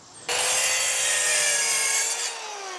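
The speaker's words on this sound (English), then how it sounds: "I'm going to plunge cut into the wood here with my circular saw." Circular saw plunge-cutting into wood while fitting fascia and soffit on a 10x12 shed, blade depth set to 3/4 inch: a loud, steady whining cut lasting about two seconds, then spinning down.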